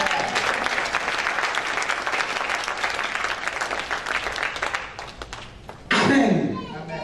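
Church congregation clapping, steady loud applause from many hands that tapers off, then a voice speaks near the end.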